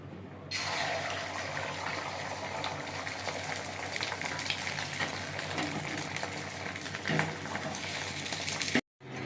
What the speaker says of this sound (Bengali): তেল আমার গরম হয়ে গেছে, আমি ডিমটা ছেড়ে দেবো।